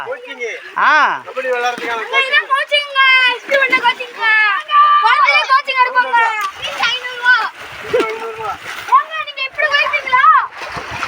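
Boys splash about while bathing in water after a winning kabaddi match, with loud, busy splashing mixed with near, excited children's shouting and chatter throughout.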